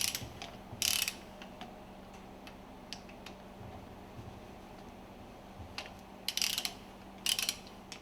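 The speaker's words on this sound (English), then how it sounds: "Loosen and remove the screws from the plunger and barrel assembly" A ratchet clicks in short bursts while screws are loosened from a marine fuel pump plunger and barrel assembly, quiet and close, with a low steady hum behind and brief pauses between turns.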